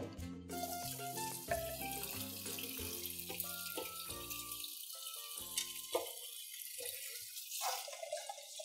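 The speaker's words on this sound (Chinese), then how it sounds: "我们冲冷水在这边" Cold tap water runs over black fungus in a kitchen sink, a continuous splashing stream with some dripping and shifting gurgles, heard close and alone.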